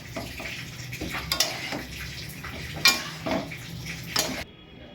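Egg chowmein with vegetables being stirred and tossed in a pan, restaurant style, giving repeated scraping and clattering hits of utensil on metal over a low sizzle, fairly close, ending abruptly.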